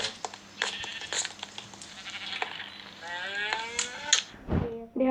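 Sheep bleating in the Minecraft video game, several short nasal bleats mixed with other farm animal calls, moderately close over a faint steady background, with no talking.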